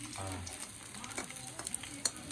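Vegetables fry and sizzle softly in a pan while being stirred, a faint steady hiss broken by a few light scraping clicks, close by and with no talk.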